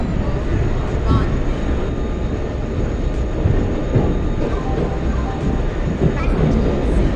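Passenger express train in a video game departing from a platform, a loud, continuous broadband rumble and rolling hiss that stays steady throughout, with faint higher squeals drifting over the top.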